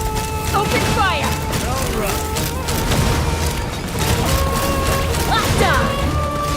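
Gunfire, crashes and explosive bursts from Genshin Impact combat form a dense, loud, continuous barrage mixed with whooshing effects and brief character voice lines.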